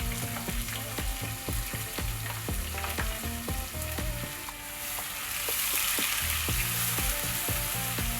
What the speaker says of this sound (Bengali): এবার আমি খুব সুন্দর করে এটাকে ভেজে নিব, যাতে কাঁচা মশলার স্মেলটা চলে যায়।